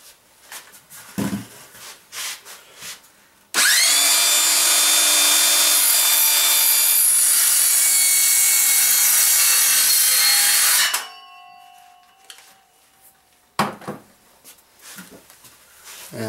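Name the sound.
sawing off wood while making an ammo box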